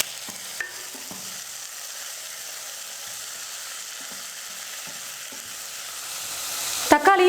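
Chopped tomatoes cook over an onion base for radish sambar, making a soft, continuous low sizzle with occasional faint stirring taps and a louder utensil clatter right at the end.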